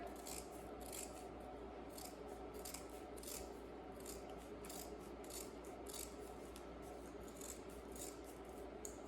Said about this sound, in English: I'm not going to get too close, but I am going to trim as much as I can off of there.